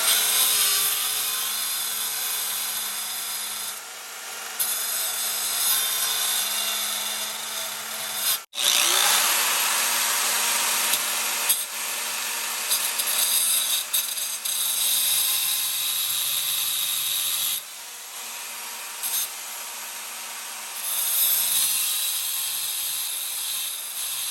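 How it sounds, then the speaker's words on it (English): A power cutter grinds loudly through the wheel bearing keeper on a Ford 8-inch rear axle, a continuous high-pitched cutting whine with a brief break near the middle, then resuming steadily. "now what we've done is we cut through that keeper"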